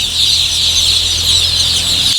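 Chickens in a village poultry shed make a dense, continuous chorus of high calls and clucks, loud and close, holding steady with no pauses and no speech.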